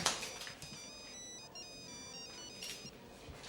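A phone ringtone plays as a repeating melodic electronic tone pattern in an Indonesian TV drama scene, steady and fairly clear with faint background noise and no talk over it.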